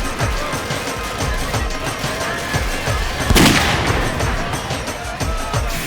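Rapid volleys of gunshots and booms at a wedding, dense and fairly loud, with one sharper blast standing out in the middle.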